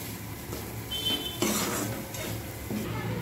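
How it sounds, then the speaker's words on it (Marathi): Beetroot curry with fresh coriander stirred in a pan, a soft scraping of spoon against metal with faint sizzling underneath and an occasional light clink of utensil. "भाजी मिक्स करून घेऊया।"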